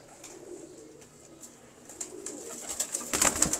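Breeder pigeons cooing softly in a loft, low repeated coos over faint background noise, with a sharper burst of fluttering near the end.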